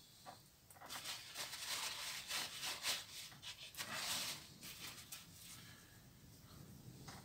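A nut is removed from a Shimano Torium 14HG fishing reel, heard as faint close rubbing and scraping of small metal parts in short irregular bursts, quiet and without talk.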